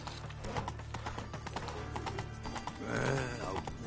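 The horse Roach walks in The Witcher 3, steady clip-clopping hooves at a moderate pace over a low ambient bed, with a soft snort or whinny near the end.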